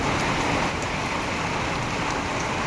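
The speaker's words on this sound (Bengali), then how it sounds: "কিন্তু বাইরে ভীষণ বৃষ্টি ভীষণ বৃষ্টি যা বৃষ্টি পড়ছে" Heavy rain pours down outside as a dense, continuous broadband hiss, loud and even throughout with no voices.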